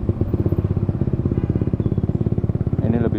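A motorcycle with an aftermarket exhaust idles close by with a deep, rapid, throbbing exhaust pulse, revving slightly toward the end.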